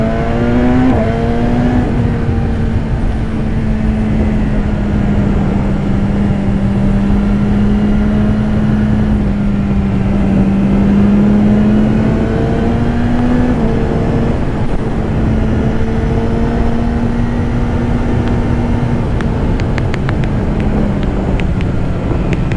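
A 2015 BMW S1000RR sport bike on the road, its engine holding a steady drone that rises and falls with throttle changes, heavy wind buffeting the rider's microphone throughout.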